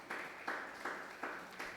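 Faint applause from a church congregation in five evenly spaced bursts, a soft and distant rhythmic clapping heard alone.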